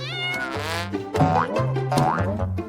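A kitten gives a few loud, close, drawn-out meows in quick succession, each one rising and falling in pitch.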